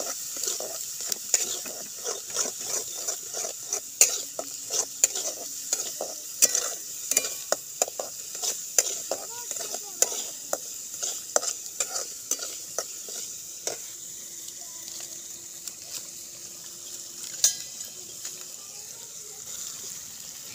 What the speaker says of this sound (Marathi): आता हे चांगलं परतून घेते ह्याच्यामध्ये मी